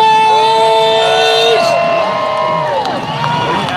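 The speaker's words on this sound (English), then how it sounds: "Jason Wright, let's make some noise!" Spectators at a jet ski freestyle show in the Bridgewater Channel cheer and whoop loudly from close by, with a steady roar of voices and a whistle-like tone running through it.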